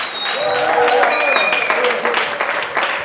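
A church congregation applauds a preacher with loud, sustained clapping and cheering throughout, while voices call out over the applause.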